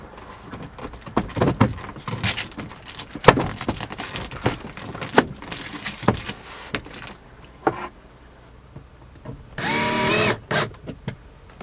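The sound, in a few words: driving screws with a power drill in a van build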